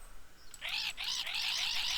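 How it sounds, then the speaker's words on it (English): A parrot in the Stardew Valley video game gives a steady run of bright, repeated squawks that start suddenly and carry on through the moment, loud and alone with no talk over them. "This one just says "awk" over and over."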